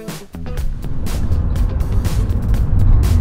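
A car drives steadily along with a continuous, loud engine and road rumble, heard from inside the cabin, building slightly over the few seconds with no talking.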